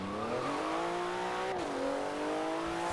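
A Porsche in Forza Horizon 4 launches from a standstill, its engine note climbing steadily in pitch, dropping briefly at a gear change, then rising again, loud and close.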